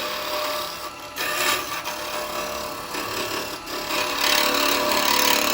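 A woodturning tool rubs against a hard wood bowl spinning on a lathe, giving a continuous close scraping and rasping with slight surges in intensity and no speech.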